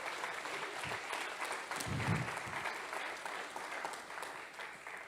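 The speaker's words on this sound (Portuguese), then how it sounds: "Aplaude o teu Deus, aplaude." A church congregation applauds in a steady, dense burst of clapping, with a few indistinct voices beneath it.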